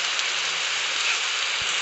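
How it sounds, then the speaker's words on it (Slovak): Steady rain falls in the 99 Nights in the Forest video game, a continuous dense hiss that holds even and unbroken throughout, with no talking over it. "ešte sa nám tu začalo pršať"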